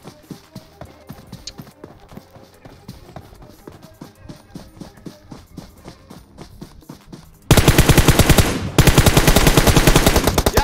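Gunfire in the mobile battle game PUBG Mobile: rapid distant shots patter through the first half, then close, loud automatic bursts erupt near the end with a brief pause between them.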